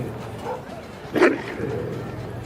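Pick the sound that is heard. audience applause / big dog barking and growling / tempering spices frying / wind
big dog barking and growling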